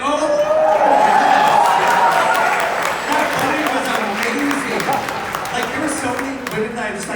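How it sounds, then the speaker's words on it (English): An audience at a furry convention closing ceremony breaks into loud sustained applause, dense clapping with some cheering and chatter that tapers slightly but carries on throughout. "Can we get a round of applause for our special guest"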